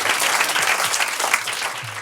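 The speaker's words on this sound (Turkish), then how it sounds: "Bir alkışlayalım mı Hortum'u?" An audience applauds a quiz team named Hortum at a quiz night, producing steady, dense clapping across the whole short stretch, fairly loud and close with no talk over it.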